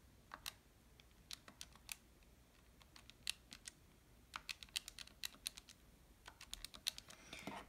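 Calculator buttons clicked in quick, irregular bursts of sharp, faint plastic taps, close up and with no talk.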